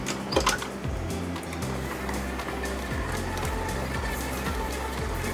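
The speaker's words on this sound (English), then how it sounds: "throw all this in the mixer bowl with the paddle attachment and mix away" A stand mixer with a paddle attachment beats sugar and butter for a lemon bar crust, a steady mechanical whir with a regular rhythmic thumping from the paddle, moderately quiet and alone.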